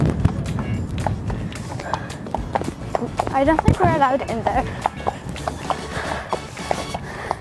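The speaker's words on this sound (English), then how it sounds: "There's a horse." A horse runs at an equestrian outing, its hooves clip-clopping steadily and fairly close while people talk over them throughout.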